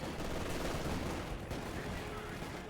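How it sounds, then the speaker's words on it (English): Heavy mortar fire in the strategy game Company of Heroes 2, a faint continuous rumble of distant explosions and battle noise running throughout, fairly quiet in the background. "Heavy mortar fire here again."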